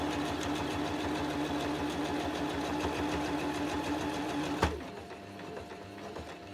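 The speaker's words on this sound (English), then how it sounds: "So I'm just going to pop a little row of straight stitch across there just to seal that opening" A sewing machine runs a straight stitch across an oilcloth zipper pouch, a steady, fast mechanical whirring and ticking for several seconds that stops abruptly with a thump, then quiet.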